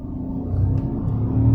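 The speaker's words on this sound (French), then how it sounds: "Appuie un peu sur l'accélérateur." A Ford Puma petrol automatic engine revs as the accelerator is pressed, a close, steady low rumble that swells gradually louder over a couple of seconds, with no talk.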